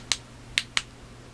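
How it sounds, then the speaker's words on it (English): The clicky tail switch of a March C8 flashlight is pressed three times, sharp close clicks with the last two in quick succession, in a quiet room. "Tail clicky."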